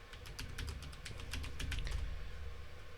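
Quick keypresses on a computer keyboard while searching for a fence bracket in SketchUp: a burst of several sharp clicks in an uneven rhythm, close and clear, then a pause with no talk.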